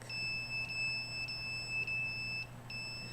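Handheld detector giving off steady high-pitched electronic tones, broken by brief regular gaps, fairly faint over a low background hum with no talking.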